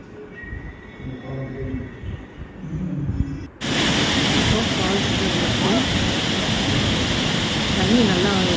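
Thirparappu waterfall pours down with a loud, dense, steady roar of rushing water that starts abruptly after a quieter opening with faint voices and stays constant and close.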